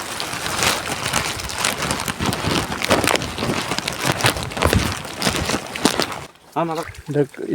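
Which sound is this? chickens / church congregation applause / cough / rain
rain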